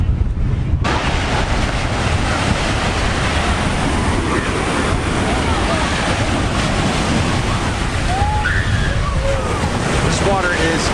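Ocean waves and surf washing onto a busy beach, a loud continuous roar with wind buffeting the microphone throughout.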